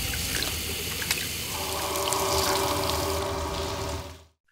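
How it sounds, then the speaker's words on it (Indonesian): A water tap left running in a hospital toilet until the water overflows: a steady, fairly loud rushing and splashing flow that fills the clip and cuts off abruptly near the end, with no talking. "seseorang di luar memanipulasi keran hingga air meluap"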